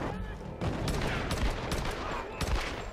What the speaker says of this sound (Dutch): Ik zit er allemaal wel leuk met mijn pistool te schieten